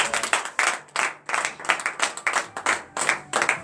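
A worship congregation at a morning prayer service claps in rhythmic bursts, loud and close, with brief pauses between volleys of hand claps.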